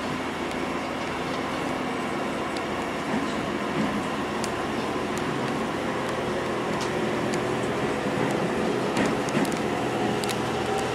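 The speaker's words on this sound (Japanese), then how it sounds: "電気式機動車が奏でる、機動車らしからぬ音をお楽しみください" An electric-drive diesel railcar runs along the JR Ban'etsu West Line, heard as a steady, loud rumble and hum of motors and wheels that continues without a break, with faint clicks and squeaks over it.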